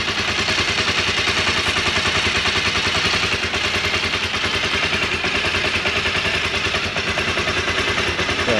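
On a cold outdoor morning an engine runs at a steady, close idle, a dense rhythmic chugging with mechanical clatter that holds throughout without pauses.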